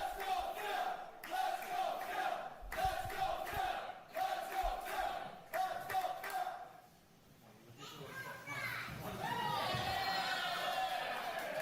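Crowd at an independent wrestling show in Hicksville cheering and yelling around the ring, with loud roars and shouts, while a commentator talks over the noise.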